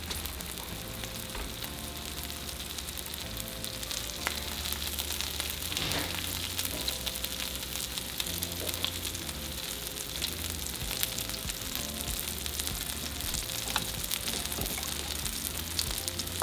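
Meat frying and sizzling in a pan with melted cheese for birria verde quesatacos, a steady crackling sizzle that runs continuously, moderately close and without any talking.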